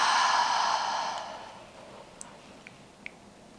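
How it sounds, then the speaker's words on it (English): A long, deep exhale pushed out through the mouth at the end of a full-body flow session, a soft breathy rush that fades over a couple of seconds, followed by quiet with a few faint ticks. "and exhale out your mouth."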